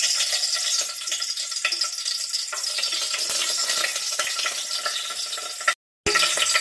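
Whole spices frying in hot oil for biryani give a steady, close sizzle with faint stirring scrapes throughout, cutting out briefly near the end.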